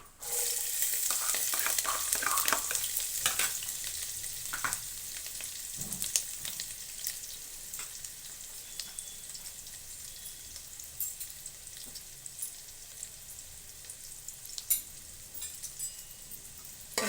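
Chopped carrot and green chili sizzling steadily in hot oil in a pan, a continuous close crackle with occasional sharper pops and stirring scrapes, no voices.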